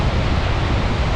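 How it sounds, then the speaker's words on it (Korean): Strong ocean waves splashing on a beach at Hua Hin, a dense, continuous roar of surf and spray, loud and close with no distinct breaks. "파도가 세서 물이 튀깁니다."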